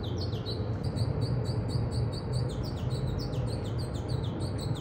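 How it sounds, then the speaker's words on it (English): Several birds chirp and tweet outdoors in repeated short high calls over a steady low rumble of background noise, moderately close and continuous throughout. "Sure, there's a lot of chirping going on out here."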